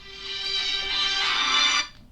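A mobile phone rings with a bright, steady electronic tone that holds for nearly two seconds and then cuts off abruptly, with no talk over it.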